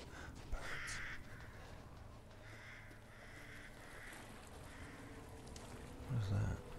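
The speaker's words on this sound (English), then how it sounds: "Birds." Crows caw in the Resident Evil Village video game, several harsh calls spread over the span, fairly faint against a dim ambient background, with a low thud near the end.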